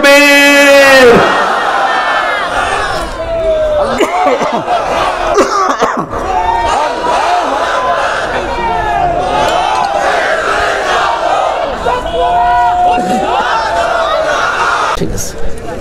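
At a Bengali political gathering, a large crowd roars a takbir chant back in unison after a leader's call, loud and sustained, with coughs and scattered voices throughout.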